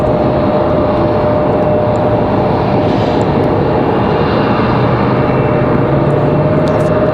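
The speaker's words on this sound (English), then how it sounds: "Got a Delta CRJ headed up the hill now" A Delta CRJ jet takes off from Raleigh Durham International Airport, its engines producing a loud, continuous, broadband roar that stays steady and close throughout, with no voices.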